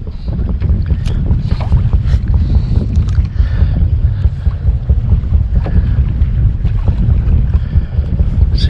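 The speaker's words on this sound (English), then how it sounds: "I wasn't expecting for it to be windy." Steady wind buffets the microphone in a constant low roar, with faint rustling and occasional gusts throughout, no voices.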